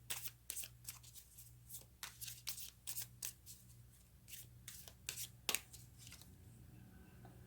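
Tarot cards being shuffled by hand make crisp, riffling bursts of papery flutter, close and repeated in an irregular rhythm over a low steady hum, with no speech.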